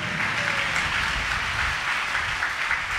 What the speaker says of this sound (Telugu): చప్పట్లు కొడదాం అందరు గట్టి